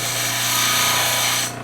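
A cabochon stone being ground on a lapidary wheel gives a steady, close, loud abrasive whir that holds evenly, then eases off near the end with no one talking.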